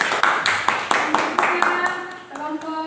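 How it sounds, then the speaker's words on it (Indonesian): A small classroom audience claps for a student group after a presentation, a few distinct rhythmic claps close by that thin out, with a voice briefly heard at the end. "Tepuk tangan buat kelompok akhlak"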